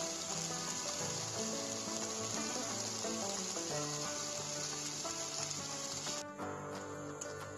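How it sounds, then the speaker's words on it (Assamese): Paneer pieces fry in a little oil in a kadai for a restaurant-style dish, giving a steady, close sizzle and crackle that runs the whole time with a faint tonal layer beneath. "আমি পনীৰখিনি অলপমান তেলত ফ্ৰাই কৰি ল'ম।"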